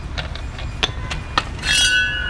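A hammer strikes a stuck core drill bit: a run of sharp metallic clinks at uneven intervals, two louder than the rest, then a brief bright rasping burst near the end.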